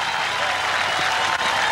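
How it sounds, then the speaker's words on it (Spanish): Loud, dense crowd applause honoring a guest at a Mexican ranchera event, an unbroken wash of clapping with a faint crowd murmur beneath. "para el cual pido un gran, gran aplauso"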